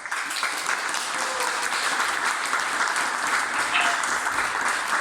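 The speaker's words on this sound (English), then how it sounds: "Warm applause" Audience applause at a coding bootcamp demo day as a team comes on stage, a steady continuous wash of many clapping hands at moderate level throughout.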